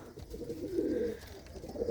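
Pet pigeons coo in a soft, low, rolling murmur at close range, fairly faint over steady background noise.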